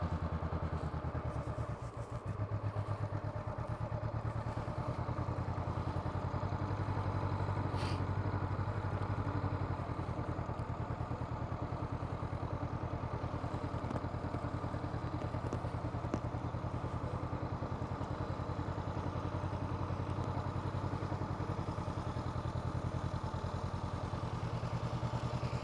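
A motorcycle rides slowly through low-speed balance drills and wide U-turns, its engine a steady, moderate rumble that holds near idle for the whole stretch, with faint clatter in the background.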